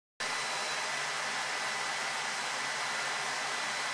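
A Dyson Gen5 Detect cordless vacuum cleaner running in boost mode, a loud, steady high-pitched whoosh that starts abruptly and holds constant, close and alone without speech.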